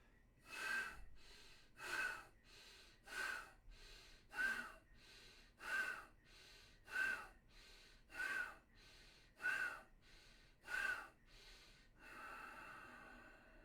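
Deep pranayama belly breaths, inhaled into the stomach with the chin kept locked, come as a steady series of about ten close, rhythmic breath sounds evenly spaced at roughly one per second, ending in a longer softer exhale.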